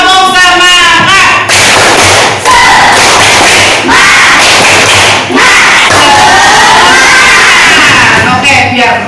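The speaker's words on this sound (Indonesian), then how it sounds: "Ayo, tepuk semangat." A class of sixth-grade children in a classroom does a rhythmic spirit clap: loud bursts of clapping and thumping interleaved with group chanting and shouting, close and energetic.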